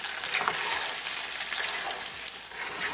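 Chicken pasta frying over a high gas flame gives a steady, dense sizzle with crackly spatter throughout, close and fairly loud with no voices.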